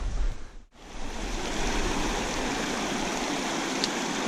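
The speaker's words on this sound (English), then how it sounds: "I'm going right up under the waterfall here." A waterfall pouring into a trout stream makes a steady, full rushing roar close by, with a brief dip near the start before the constant wash of water continues.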